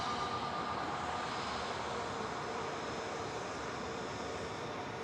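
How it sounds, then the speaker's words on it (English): Airliner departing Manchester Airport on a repositioning flight, a steady, broad engine roar that holds at a constant level as the aircraft heads off down the runway. "There goes the repositioning flight off to Edinburgh."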